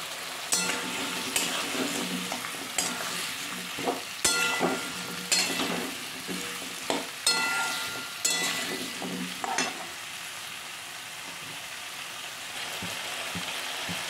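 Pumpkin pieces hitting hot oil with fried spices including fenugreek, a continuous sizzle broken by repeated sharp stirring scrapes and clatters of a spatula in the pan, close and lively, no talking.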